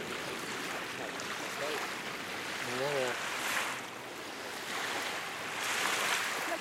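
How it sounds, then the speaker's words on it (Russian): Waves wash in and out at Novaya Ladoga, Russia, with a broad rushing hiss, swelling twice over a steady low roar; a faint whistle-like tone cuts through briefly. "Смотри, волна."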